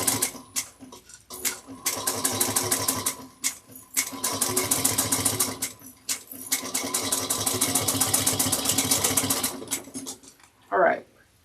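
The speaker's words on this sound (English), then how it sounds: "I know I would sew over a staple. So we're back stitching." A sewing machine back stitching a bucket bag, running in rapid mechanical bursts separated by short pauses as the direction is reversed. The stitching is close and loud, and a brief sound follows at the very end.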